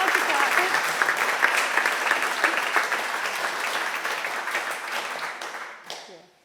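A crowd applauds at a winter talks evening, steady dense clapping from many hands that holds for several seconds, then thins and fades away near the end.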